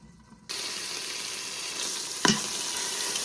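Black eye beans masala sautéing in oil under a closed lid in a pressure cooker, giving a steady, close sizzle that starts abruptly and holds, with a brief clatter near the end.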